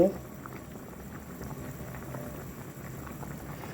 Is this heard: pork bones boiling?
yes